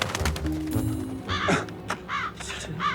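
A crow caws several times in quick succession during a Korean TV drama scene about a truck crash, the harsh calls standing out over a low rumbling background with no talk.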